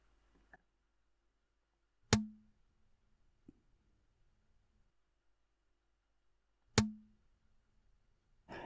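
Two sharp, isolated impulses crack out several seconds apart against a rock called gnome rock in Finland, each followed by a short, low ringing tail of about half a second that fades quickly into quiet.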